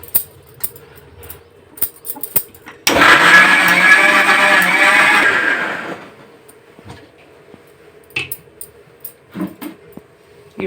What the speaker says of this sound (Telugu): తర్వాత మిక్సీ పడుతున్నానండి